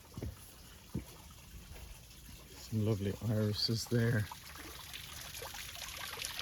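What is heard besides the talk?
garden water feature trickling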